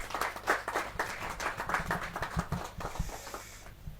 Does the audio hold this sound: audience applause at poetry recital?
yes